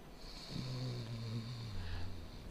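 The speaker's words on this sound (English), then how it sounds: "So some random snoring we can hear." A single drawn-out snore in the video game Dark Souls, a low rumbling breath with a faint steady high tone lingering behind it.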